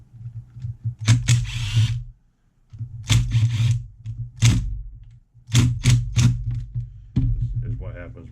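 Old Loctite-secured screws being worked loose to remove a radio box from a nitro RC vehicle, with short bursts of ratcheting, tool-like mechanical clicks separated by pauses, close and moderately loud.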